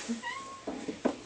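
A cat meows a few times in short, close calls, one drawn-out and higher, with brief pauses between them.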